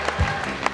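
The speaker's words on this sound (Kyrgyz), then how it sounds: "Бойдоктор бир кол чаап коюңуздарчы, залда." A hall audience of bachelors claps briefly at a comedy show, a short burst of applause under a loud live room.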